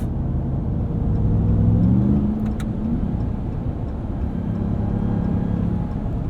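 A 2021 Ram 1500 TRX pickup in sport mode drives on a city street, its engine a steady low drone with a brief rising rev in the middle, heard from inside the cab with no talking.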